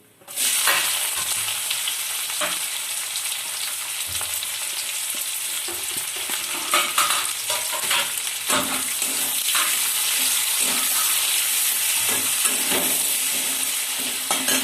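Chopped onion fries in oil with bay leaf, cardamom, cloves, cinnamon and a dried chilli for a prawn malai curry, a loud, close, continuous sizzle with repeated spatula stirs and pan scrapes, no voices.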